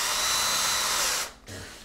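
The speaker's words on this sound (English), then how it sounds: "I'm doing a pre-drill, the countersink" A power drill whines steadily while pre-drilling holes for wooden racking, stops briefly, then starts again, loud and close with no talking.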